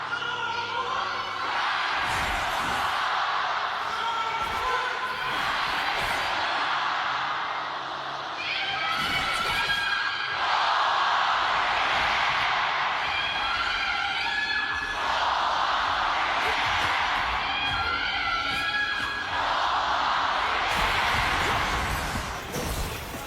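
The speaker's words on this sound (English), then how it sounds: "Let's listen to the crowd." A large esports crowd at the KPL China grand finals roars and cheers continuously in a big arena, the noise swelling and dipping in waves for over twenty seconds.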